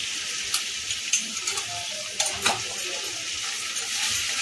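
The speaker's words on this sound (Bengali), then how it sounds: "টমেটোটা যতক্ষণ না গলে যায় ততক্ষণ আমি এটাকে কষাতে থাকি।" Tomatoes, rajma and salt fry in a pan with a steady close sizzle, broken by soft stirring scrapes and light taps of a spoon against the pan.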